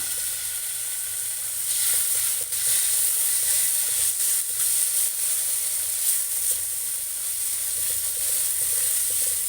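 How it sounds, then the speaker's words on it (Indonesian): Tempeh ingredients stir-frying with chili sauce in a hot pan, a continuous loud hissing sizzle with faint stirring scrapes, no voices. "Tumis sampai wangi dan layu bahan-bahannya. Kemudian tambahkan saus sambal."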